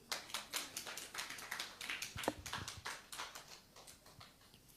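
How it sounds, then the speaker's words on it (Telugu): Audience clapping hands in a church gathering, a steady run of sharp claps from many people building and thinning over several seconds, moderately distant with no talking. "అర్థం అవుతుందో చప్పట్లు కొట్టండి"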